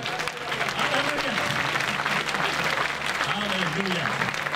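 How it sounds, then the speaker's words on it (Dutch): A congregation claps steadily through a lively church service, the dense applause continuous and close, mixed with cheering voices and a few melodic vocal cries. "een applaus, blijf klappen."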